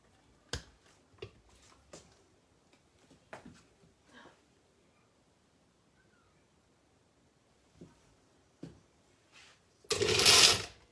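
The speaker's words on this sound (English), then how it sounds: "now we are going to puree this until smooth." After several quiet clicks and taps, a kitchen blender roars to life at the very end, loud and close, as it starts pureeing food.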